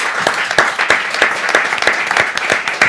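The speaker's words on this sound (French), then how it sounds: "Je vous propose qu'on puisse applaudir nos intervenants." An audience at a French radio debate broadcast claps steadily for the panel, a close, fairly loud burst of many hands with sharp individual claps standing out, and no voices over it.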